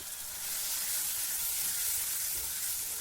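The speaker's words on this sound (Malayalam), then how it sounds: "എല്ലാം കൂടി ചേർത്തതിന് ശേഷം നമുക്കിതൊന്ന് 2-3 മിനിറ്റ് ഒന്ന് വഴറ്റിയെടുക്കാം" Shallots and spices sautéing in a clay pot for a Kerala fish curry give off a steady, close sizzling hiss that holds evenly throughout with no voices.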